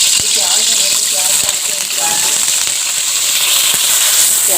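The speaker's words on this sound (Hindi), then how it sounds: "प्याज को हल्का हम फ्राई करेंगे।" Sliced onions fry in hot cooking oil in a kadai, giving a loud, steady hiss and sizzle with small crackles and pops throughout while a voice talks quietly in the background.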